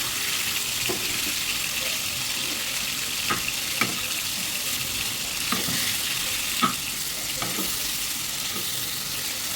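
Pieces of korameenu fish fry in hot oil with a steady, dense sizzle that runs throughout, broken by a few faint clinks and stirs.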